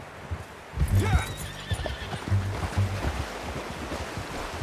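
Horse in Red Dead Redemption 2 giving a loud close whinny, followed by a steady clip-clop of hooves with soft ambient background.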